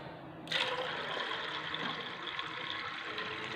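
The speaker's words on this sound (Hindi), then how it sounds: "इसमें थोड़ा सा पानी हम और शामिल करेंगे।" Water pours steadily into a pot of chana dal, a sudden rush of splashing liquid starting after a brief pause and continuing as a close, even flow.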